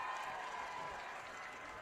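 Crowd at a high school football game between Saydel and Des Moines North cheering and applauding, a steady dense roar of clapping and voices held at an even level throughout.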